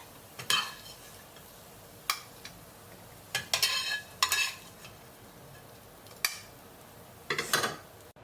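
Taki fish frying in a pan while being stirred, heard as a faint background sizzle broken by several separate bursts of spatula scraping and metal clinks spaced a second or so apart.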